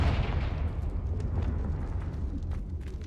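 A Confringo fire spell from Hogwarts Legacy bursts into a heavy, booming explosion with a thick low rumble that slowly fades, scattered crackling pops on top and no talking.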